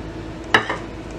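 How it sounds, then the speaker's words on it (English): A cast iron pan being handled on a stovetop, giving one sharp metallic clank followed by a softer knock, close by with no talking. "Let's go ahead and start heating up this cast iron."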